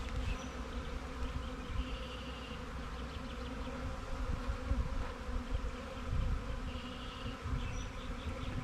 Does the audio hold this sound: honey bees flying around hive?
yes